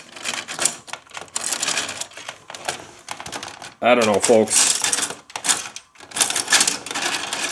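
A toy multi-level parking garage playset's elevator mechanism clicks and rattles in quick irregular bursts close up, with someone briefly speaking midway.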